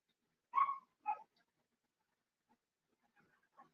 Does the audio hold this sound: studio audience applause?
no